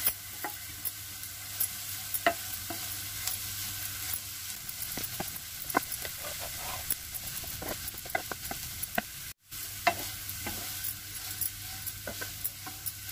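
Potatoes fry in a pan over very low heat with turmeric powder, giving a steady soft sizzle broken by frequent close stirring scrapes and clicks, with no talking.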